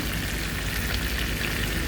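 Pork soft-bone pieces sizzle and crackle steadily in a hot pan, a dense frying hiss with no voices.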